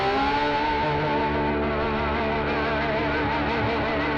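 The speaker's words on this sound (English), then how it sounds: "Create some noise just by moving it around the point." A bottleneck slide is moved on the strings of a heavily distorted electric guitar, producing a sustained, wavering, buzzing drone with shifting overtones, steady and loud throughout with no talking.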